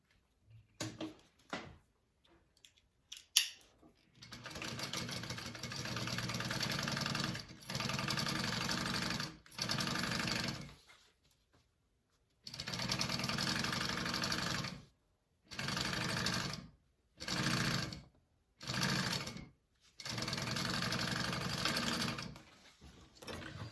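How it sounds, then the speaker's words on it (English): Sewing machine stitching a quarter inch seam on a fabric bag: several bursts of steady motor whir of a few seconds each, separated by short pauses and small handling clicks, close and clear with no talk. "now we want to sew that on at a 1/4 inch seam allowance"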